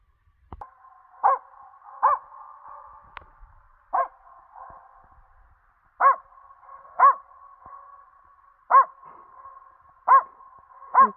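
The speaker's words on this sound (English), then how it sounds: "Tucker thinks there's another dog barking back at him." A dog named Tucker barks at a backcountry lake in Temagami, eight or so single sharp woofs spaced a second or two apart, each followed by a faint echo returning across the water.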